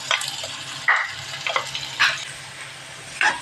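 Finely chopped onion fries in a kadhai, a close sizzle broken by several sharp bursts of spatter and stirring scrapes at irregular intervals.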